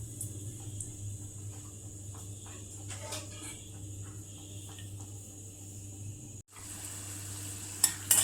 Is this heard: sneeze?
no